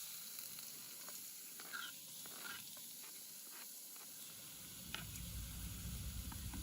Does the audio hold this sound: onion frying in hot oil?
yes